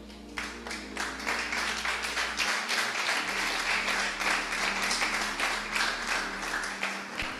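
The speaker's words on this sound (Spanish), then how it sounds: "Démosle un aplauso al rey" A church congregation applauds the king, a dense, steady wash of clapping from many hands that runs the whole way through at a close, even level.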